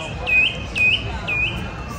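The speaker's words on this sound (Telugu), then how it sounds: "బర్డ్స్" Small birds chirp three times in quick, evenly spaced short calls, fairly close and clear over a soft, steady outdoor background with no talk.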